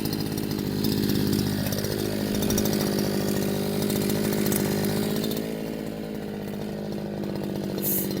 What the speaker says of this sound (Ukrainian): І будемо пробувати налегенько косити, збивати травичку, обкатувати поступово.